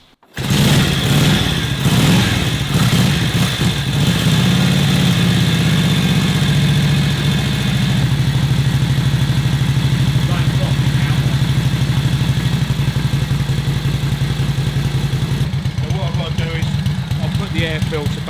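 A 1941 Harley-Davidson WLC motorcycle engine starts and settles into a loud, steady, close idle with a rapid, lumpy exhaust beat that holds for the whole stretch.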